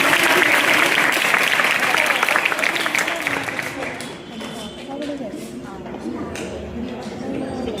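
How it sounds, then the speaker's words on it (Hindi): Loud, steady applause from a crowd at a girls' senior secondary school event, gradually thinning and fading over several seconds. "जोरदार तालियां सभी बच्चों का।"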